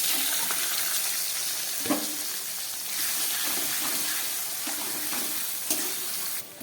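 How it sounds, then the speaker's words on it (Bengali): Onion fries in oil with bay leaf, cumin and garam masala, giving a dense close hiss and crackle with occasional utensil knocks and scrapes as it is stirred. "এবার দিয়ে দিচ্ছি পেঁয়াজ।"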